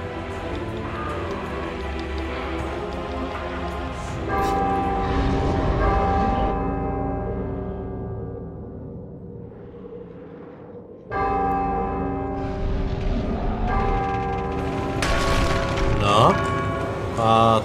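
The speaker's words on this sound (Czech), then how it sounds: "Jo, tady jsou dva zvony." Two large bells in God of War 2 ring loud and resonant, each strike leaving a long humming decay, with a fresh clang about two-thirds through.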